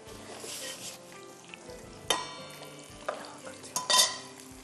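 Onions stirred and frying in a frying pan, a steady close sizzle with spatula scrapes and a few sharper clinks and bursts of crackle toward the end.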